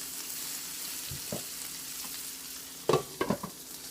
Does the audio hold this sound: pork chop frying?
yes